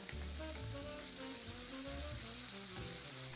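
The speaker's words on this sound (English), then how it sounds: "So to this butter, we are adding the grated onion." Grated onion sizzling in melted butter in a heated skillet, a continuous close, soft frying hiss with faint crackles and no talk.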